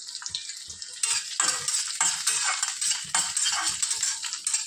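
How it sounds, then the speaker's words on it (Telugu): Green chillies and dried red chillies fry in hot oil, a steady close sizzle with bursts of crackle and occasional scraping stirs, no voices. "పచ్చిమిర్చి ఎండుమిరపకాయలు ఆయిల్ వేడి ఎక్కాక వేసుకుందాము"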